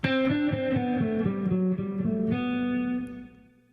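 A distorted electric guitar plays a quick descending run of even sixteenth notes, ending on a sustained note that fades away, alone and up close.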